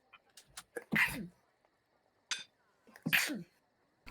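Two loud, close sneezes from a player around a tabletop game session, each a sharp burst preceded by short gasping intakes, with quiet breathing and small noises between them.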